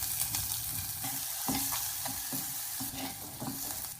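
Onions sizzle and fry steadily in hot coconut oil with fenugreek, ginger, garlic, curry leaves and green chilli for a Kerala sardine curry, with a few soft stirring scrapes breaking through the continuous close crackle.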